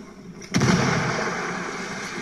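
A frag grenade blast in Ghost Recon Wildlands gameplay, one loud, close boom that rolls out into a long rumbling tail, with no talk over it.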